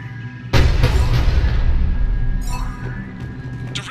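A ship's cannon fires in Mass Effect 3, a sudden loud boom after half a second followed by a long rumbling roar that slowly fades, with faint electronic tones late in the tail.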